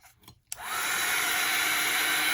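A hair dryer switches on with a click after a few soft handling sounds, then runs as a steady loud whirring blow to dry paint in an art journal.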